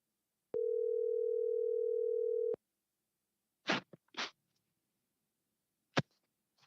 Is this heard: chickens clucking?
no